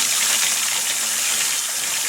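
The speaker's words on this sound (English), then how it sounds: "Rinse it out. Add more cold water." Cold water pours steadily into a bowl holding one cup of sushi rice for rinsing, a loud, close, continuous gushing splash with no talk.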